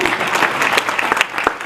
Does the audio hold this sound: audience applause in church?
yes